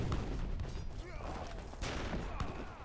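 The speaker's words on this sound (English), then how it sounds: "There was like 12 heavy cannons in here. Blasting away Hussars." A dozen heavy cannons blast away at Hussars and pikemen during a cast strategy video game battle: rolling booms and crackling volleys stack up over a few seconds, with commentary beneath.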